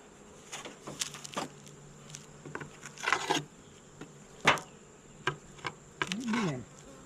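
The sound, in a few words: honeybees buzzing at a hive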